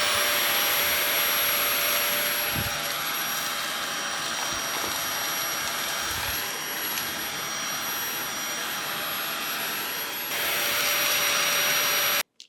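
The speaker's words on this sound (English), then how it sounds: "transforming it into a handheld vacuum as well" A eufy E20 robot vacuum in handheld mode runs steadily with a loud, high-pitched motor whine, broken by a couple of dull bumps and a brief surge near the end before it cuts off.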